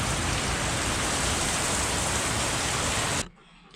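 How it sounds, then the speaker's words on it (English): Hail and rain pouring down outside during a sudden Colorado storm; a dense, loud, steady hiss of falling water and ice that cuts off abruptly near the end, leaving faint background. "it starts hailing and raining outside"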